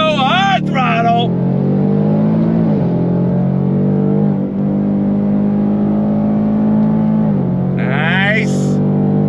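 A 2023 Ford Mustang GT's engine drones steadily as it accelerates on throttle through a corner, a loud continuous tone with a couple of brief higher whines and talk over it.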